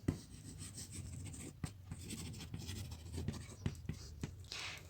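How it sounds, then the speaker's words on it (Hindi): A pen scratches and rubs on paper close up as someone writes out English paragraph notes, a faint, irregular scribbling with soft taps under quiet talk. "मैं साइड बाय साइड लिखती जा रही हूँ।"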